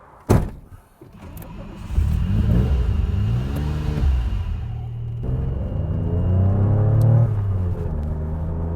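A car door thumps shut, then a 1981 DeLorean DMC-12 engine starts and revs as the car pulls away, accelerating through several gear changes.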